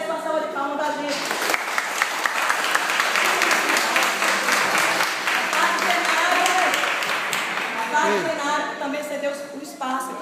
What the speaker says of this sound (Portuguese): E uma salva de palmas bem forte a toda a população